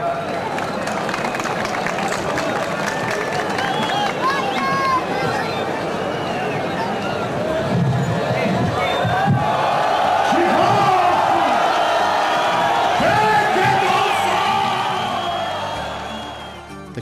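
A large crowd surges at the Manisa mesir paste festival, a dense, continuous hubbub of many voices with shouts and cries rising and swelling toward the middle before easing off.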